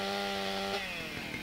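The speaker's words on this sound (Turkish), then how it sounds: "Şurada bir tane elektrikli testere var." A chainsaw in GTA San Andreas runs at a steady, loud idling buzz, its pitch wavering and dropping slightly as it is handled, with no talk.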